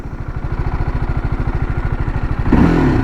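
A TVS Apache RTR 310 motorcycle in sport mode idles with a fast, even single-cylinder throb. Near the end the throttle blips and the engine jumps into a louder, rising rev, heard up close.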